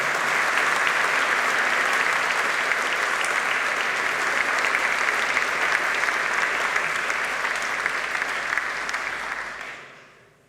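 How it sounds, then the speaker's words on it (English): Sustained round of applause from graduands in a large hall at a University of Manchester graduation ceremony, a dense even wash of clapping that holds steady and then fades out at the end. "I would welcome the usual round of applause from the graduands as a mark of thanks and respect to all of you."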